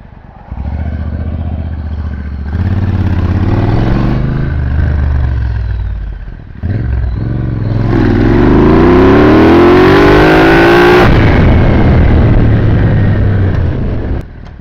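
Motorcycle engine revved hard on the stand during ECU data logging, climbing from idle through several throttle blips to a long full-throttle sweep with rising pitch, then dropping back; loud and close.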